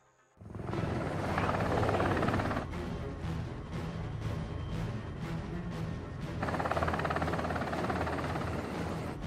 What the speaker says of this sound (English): We're allocating extra choppers to lift the tanker out of the train yard.